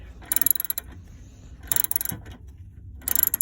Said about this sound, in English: I've always been fascinated by the ratchet